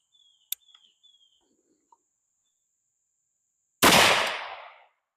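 A single loud .45-70 Government rifle shot from a CVA Scout V2 at a range cracks sharply and decays over about a second, preceded by a few faint clicks in near silence.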